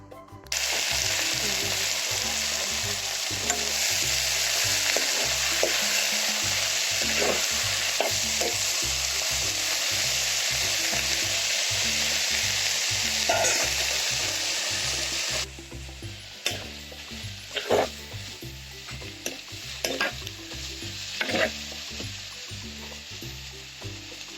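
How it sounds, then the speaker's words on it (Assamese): Lai saak greens frying in hot oil while being stirred, a loud steady sizzle with repeated scraping stir strokes, the hiss easing partway through into sparser crackles and clatter. "যেনেকৈ লাই শাক বনায় তেনেকৈ তেলতে ফ্ৰাই কৰি দিম"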